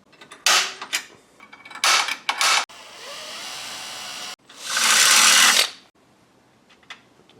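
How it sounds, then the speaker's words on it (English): Rivet nuts being set into a car body during an LS engine swap, heard as several short clattering, creaking mechanical bursts, with one longer, louder grinding burst between quieter gaps. "now I'm going to put nut certs here"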